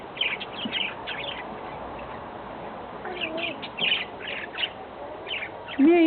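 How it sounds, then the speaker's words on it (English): Caged birds chirping in short, scattered bursts over a steady background, moderately close, with a louder call near the end and no clear speech. "There's the cage of birds."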